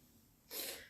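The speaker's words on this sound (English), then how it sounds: "I'm not a huge fan of it because I keep sneezing." A single sharp sneeze bursts out at close range after a quiet moment, loud and breathy with a hissing tail that fades, and no talking over it.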